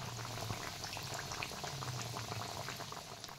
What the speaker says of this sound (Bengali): এবার জিলিপিগুলো একটা একটা করে তেলের মধ্যে দিয়ে দেব।